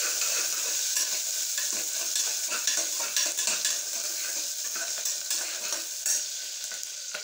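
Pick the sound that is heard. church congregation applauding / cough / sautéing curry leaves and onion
sautéing curry leaves and onion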